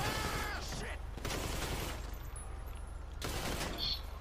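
Two miniguns blaze away in GTA 5 Online, long sustained bursts of rapid gunfire that cut out briefly between volleys, loud and close with a faint voice underneath.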